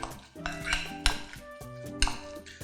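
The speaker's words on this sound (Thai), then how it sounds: "นำส่วนผสมทั้งหมดนะครับมาผสมให้เป็นเนื้อเดียวกัน" A spoon clinks and scrapes against a bowl as a spinach and cheese mixture is stirred together, giving close, rhythmic metallic knocks.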